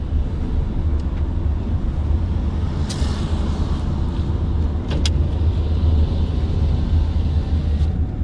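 Steady loud road rumble from inside a moving taxi driven fast, engine and tire noise droning throughout with a few brief clicks and rattles.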